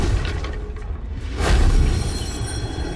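A Confringo fire spell explodes in the video game Hogwarts Legacy, a loud low boom with a brief whooshing burst that swells and rumbles for a couple of seconds.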